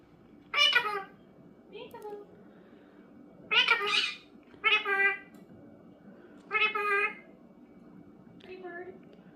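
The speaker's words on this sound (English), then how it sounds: "many of you have heard my birds chirping and squawking in the background" Several loud, harsh Indian ringneck parrot squawks come in short bursts with gaps between them, close by, over a quiet background hum.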